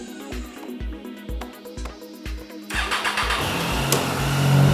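A Triumph Daytona 675 motorcycle cranks with a rapid rhythmic starter chug, then fires and settles into a loud, steady mid-pitched engine run, close by with no talking.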